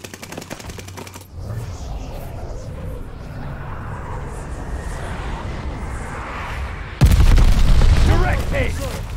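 A glide bomb strikes in Call of Duty: Vanguard team deathmatch, set against steady rumbling and distant gunfire. A loud, deep blast lands near the end. A voice is heard faintly in the mix.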